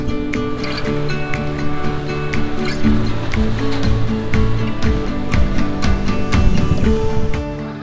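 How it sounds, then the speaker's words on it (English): Sea waves washing into natural lava rock pools on the Tenerife coast at Garachico, a continuous surging wash with splashes, fairly close. "behind me are the natural pools formed in between where the lava used to flow"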